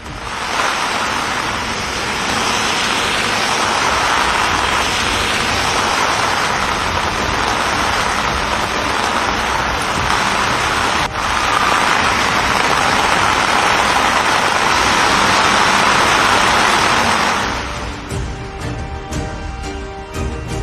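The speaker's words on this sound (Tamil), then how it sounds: "சென்னையில் நேற்று முதல் கனமழை பெய்து வருகிறது" Heavy rain pours steadily across Chennai, a dense, continuous roar that holds at full strength for most of the stretch before easing near the end into scattered drips and splashes.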